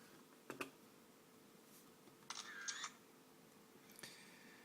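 Quiet, sharp mechanical clicks like a camera shutter firing a few times, separated by soft electronic chirps, with no talking, as screenshots are taken in Euro Truck Simulator 2.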